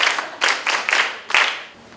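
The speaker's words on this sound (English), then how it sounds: "Clap for him." Children at a book festival clap for a classmate in a short burst of a few rhythmic surges, fairly close and loud, fading out near the end.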